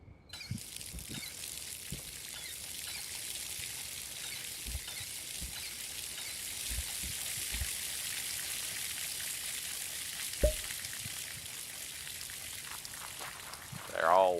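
Soft pattering and trickling of fertilizer water poured over plants in the game Schedule 1, a faint rain-like hiss with scattered drips and a voice near the end.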